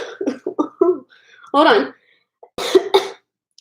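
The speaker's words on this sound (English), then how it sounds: "Sometimes I still randomly cough." A person coughs and clears their throat in a couple of short, harsh bursts between bits of nearby speech.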